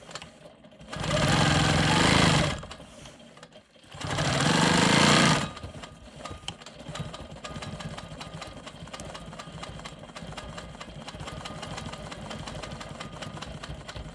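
A sewing machine stitches in the ditch around a quilt square in two loud continuous bursts of rapid needle clatter, separated by a brief pause, followed by a long stretch of quieter background hum.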